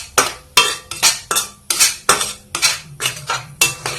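Tomato paste and spices fried in a pan for a fish curry, stirred with a metal spoon that scrapes and clinks against the pan in a steady rhythm of about ten close, loud strokes, with no talking.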